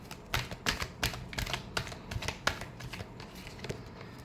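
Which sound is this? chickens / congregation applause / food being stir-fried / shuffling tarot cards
shuffling tarot cards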